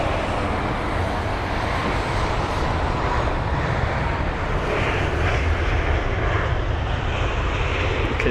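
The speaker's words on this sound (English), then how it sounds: "You can see the A319 just tiptoeing onto the runway, weaving left and right." Airbus A319 airliner touching down on the runway at London Heathrow, a loud steady roar of jet engines filling the whole stretch without letting up, with no voices.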